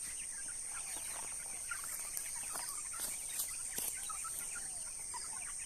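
Tetra-breed backyard free-range chickens cluck in scattered, fairly faint calls over a steady high-pitched hum, with no talking.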